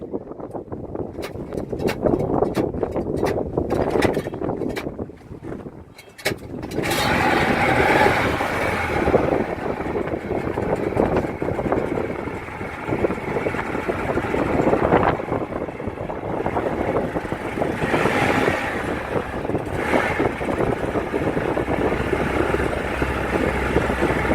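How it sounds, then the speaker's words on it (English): A steady boat engine drone runs continuously over wind and rushing ocean water off the coast of Kenya, loud and close, with some crackling gusts at the start. "I'd never been so happy to hear a working engine."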